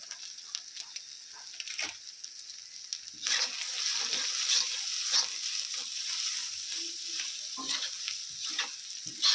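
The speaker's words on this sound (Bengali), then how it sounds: "মশলাটাকেও খুব ভালো করে কষিয়ে নিয়েছি" Turmeric and red chili powder sizzle while being stirred into ginger-garlic paste in a pan for a mutton curry, a soft hiss that swells louder after a few seconds with scraping stirs, and no voices.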